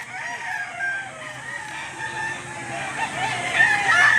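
Chickens and a rooster at a livestock auction market in Lipa, with a rooster's crow and steady clucking carrying over a busy crowd murmur, moderately near and continuous.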